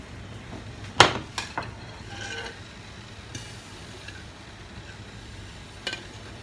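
A spoon scrapes and clinks against a pot while thickening cornstarch sauce for Thai mango sticky rice is stirred, with a sharp knock followed by softer scattered taps over a faint simmering hiss.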